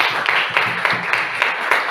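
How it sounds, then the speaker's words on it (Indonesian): A classroom group claps together after a group's answer, a brief burst of mixed hand claps with uneven rhythmic peaks, moderately close and without talk. "Tepuk tangan dulu."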